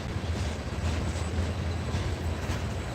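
A long freight train rolls past, a continuous low rumble of wheels and cars held at a steady, moderate level without pause or talk.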